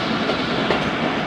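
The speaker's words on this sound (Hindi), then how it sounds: "Gujjar Khan railway station approach कर रही है ट्रेन" Jaffar Express passenger train rolling toward Gujar Khan railway station, a steady loud rumble with faint clickety-clack of wheels on track, heard from inside the moving train with no voices.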